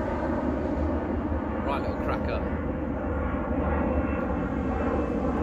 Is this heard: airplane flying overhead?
yes